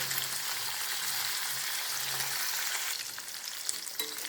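Paneer pieces frying in hot oil give a steady, dense sizzle that runs loud and unbroken throughout, close up, with a slight change in texture near the end.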